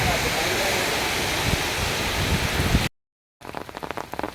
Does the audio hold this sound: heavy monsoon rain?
yes